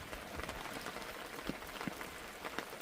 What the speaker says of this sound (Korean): 아 비가 오는데